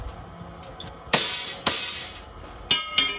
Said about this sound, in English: how well does it work as a hammer to these pins?